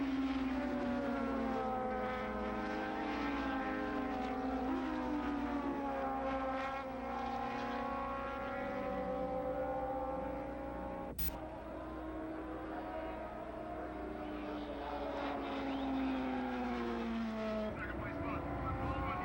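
Early-1980s superbike motorcycles race at the old Laguna Seca track, with Freddie Spencer leading Eddie Lawson. Engines rise and fall in continuous high-revving whines, then a bike passes close, and a commentator speaks over the racing.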